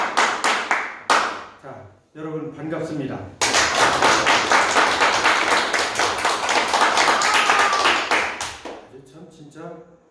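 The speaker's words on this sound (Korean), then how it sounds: "그러면 이제 박수를 쳐야지 다시." Students in a classroom clap loudly in quick, dense bursts that build into sustained applause, while a teacher speaks briefly before and after.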